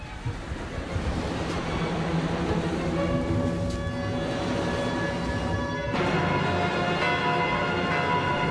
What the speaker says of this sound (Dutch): De klokken gaan te luiden, alarm.